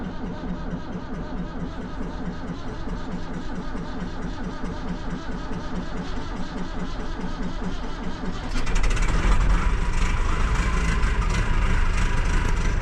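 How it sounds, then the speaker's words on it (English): A farm tractor with liquid-filled tires cranks over on a cold start, a steady rhythmic chugging of the starter and engine that suddenly catches and runs louder and rougher near the end, with no talk. "Cold start."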